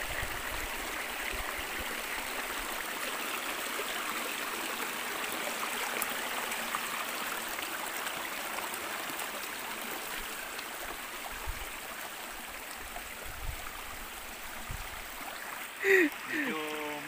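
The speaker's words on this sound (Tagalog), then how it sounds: "Siguro pag malakas yung tubig, mas lalong maganda to dito, no?" A river stream runs steadily with broadband rushing water across the whole stretch, moderately loud and continuous, with a brief splash or knock near the end.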